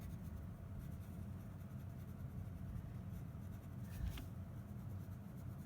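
A black colored pencil rubs back and forth on paper, shading a solid dark fill, a faint, close, steady scratchy whisper with one slightly louder stroke near the end and no speech.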